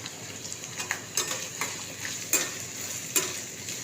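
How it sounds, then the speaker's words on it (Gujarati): Onions sauté in a hot pan for pasta, with a soft continuous sizzle broken by several scraping stirs and light clinks of a spoon against the pan, fairly quiet and close. "કાંદા નાખી દીધા છે, 1 મિનિટ સડવા દેવાના."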